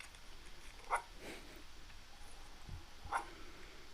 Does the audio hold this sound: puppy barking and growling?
yes